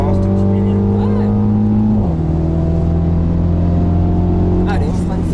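A BMW Mini's engine drones loud and steady as it accelerates on a race track, its tone climbing and shifting with a gear change, while an instructor talks over the cabin noise.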